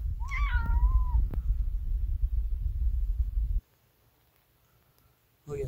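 A cat meows once near the start in a short rising-falling call over a close, rumbling handling noise that cuts out midway, followed by near silence and then the noise returning.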